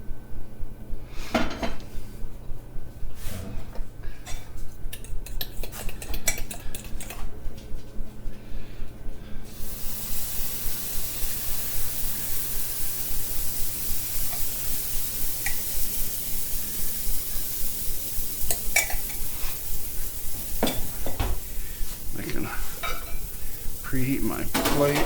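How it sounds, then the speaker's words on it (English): Oil swirled around a hot pan before cooking pancakes: quiet clinks and knocks at first, then a steady broadband sizzle rises about midway and continues, with occasional pan and utensil knocks near the end. "Oil swished around."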